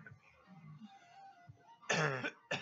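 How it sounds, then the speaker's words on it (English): A harsh burst of coughing near the mic, a couple of rough bursts after a stretch of quiet low rustling. "Can't stop coughing."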